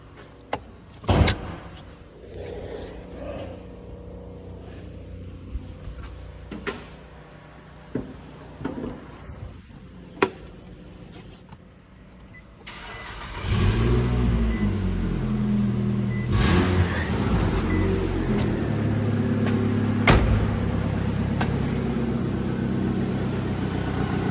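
A car engine cranks and starts partway through, then settles into a steady, fairly loud idle with an exhaust leak somewhere under the heat shield on the manifold; scattered clicks and knocks come before the start.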